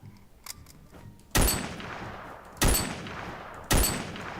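Video game gunfire: three loud, separate shots spaced about a second apart, each with a short decaying tail, over quieter background noise.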